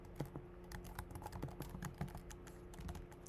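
Rapid, uneven clicking of a computer keyboard being typed on, close and fairly quiet, with irregular bursts of keystrokes over a faint background hum.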